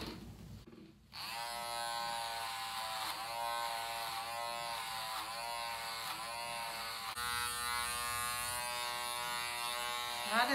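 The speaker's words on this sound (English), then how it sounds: "Now I'm going to just take some clippers and clean up his beard" Electric hair clippers run steadily while trimming a man's beard, giving a close, continuous buzzing hum with slight shifts in pitch as the blades move through hair.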